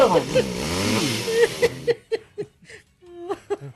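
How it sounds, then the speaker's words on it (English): A chainsaw sound effect on a radio talk show roars steadily with a rising and falling revving drone for almost two seconds, then cuts off as people laugh and talk. "put down the chainsaw"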